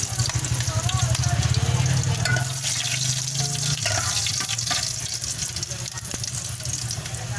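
Garlic frying in a pan for sautéed sardines with sotanghon noodles, giving a dense, close sizzle that continues throughout with some stirring noise and no talking.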